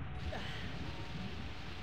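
A key door in The Legend of Zelda: Ocarina of Time unlocks with a steady grinding, creaking mechanism rumble that holds at an even level throughout, with no voices over it.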